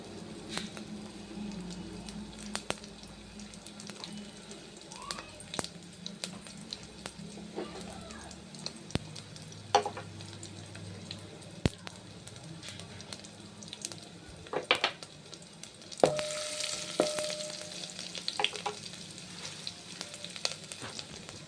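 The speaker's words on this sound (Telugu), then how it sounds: "కొంచెం ఇంగువ వేస్తున్నాను చారులో" Asafoetida dropped into a sizzling pepper rasam tempering, a steady hiss of frying with a brighter crackling burst late on and occasional splashy water and clatter sounds, with no talk.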